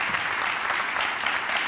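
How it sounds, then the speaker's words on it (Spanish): A studio audience gives Fernando Esteso strong applause during an interview, a steady, dense wash of clapping that holds at an even level throughout. "un fuerte aplauso para Fernando"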